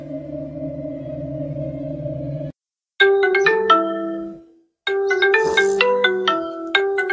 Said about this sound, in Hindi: अरे सूरी, देख किसका फोन आ रहा है।